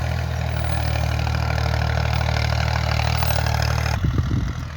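A tractor engine runs steadily in a field during canola sowing, a loud, close, continuous mechanical drone that shifts and thumps briefly near the end, with no talk.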